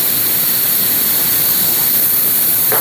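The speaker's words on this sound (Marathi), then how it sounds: "वाफ सगळी बेंचीला घातलेली सगळी कुकरची" A household pressure cooker vents steam in a loud, continuous, close hiss that holds steady throughout without a break.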